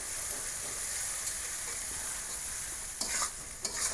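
Steady oil sizzle from onions frying after potatoes, with a few sharper crackles and stirring scrapes near the end; close and continuous, no voices.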